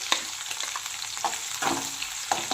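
Green chillies and onion fry in hot oil with mustard seeds and cumin, a bright steady sizzle with crackling pops and a few stirring scrapes, close and alone.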